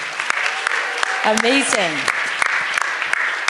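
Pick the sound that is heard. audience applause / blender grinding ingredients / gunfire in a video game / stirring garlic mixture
audience applause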